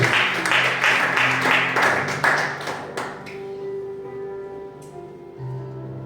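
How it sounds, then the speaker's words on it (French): A church congregation claps and cheers together in a burst of applause, loud and dense for the first three seconds, then fading into a sustained musical tone and quiet hall ambience. "Acclamons pour la gloire du Seigneur."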